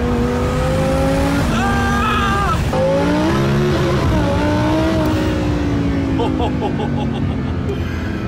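Loud twin-turbo sports car engine revving and accelerating through gears, rising and falling pitch with a roaring, close-up growl and brief tire noise.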